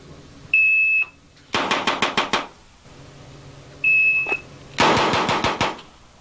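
Two rapid bursts of gunfire at a target, each a string of about six quick loud shots, each burst preceded by a short electronic tone.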